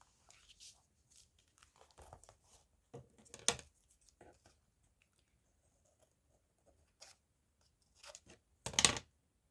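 Scissors snipping paper at close range, a few short crisp cuts with light crinkling in between, separated by quiet pauses.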